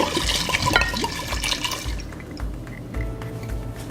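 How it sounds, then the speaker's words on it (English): A generous glug of vodka pours into a berry rhubarb lemonade punch, a close, continuous liquid splash and gurgle that trails off into a few drips. "A very generous glug of vodka."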